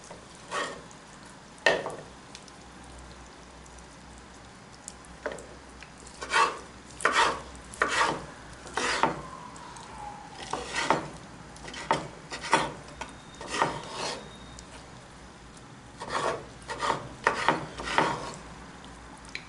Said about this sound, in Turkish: 5. portakalımızı da doğruyoruz